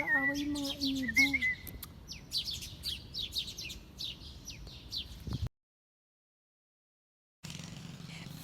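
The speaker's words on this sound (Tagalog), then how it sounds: "Nag-aaway yung mga ibon." Several birds chirp and squabble in quick, overlapping calls outdoors, with a brief harmonic cry early on, before a sudden cut to quiet.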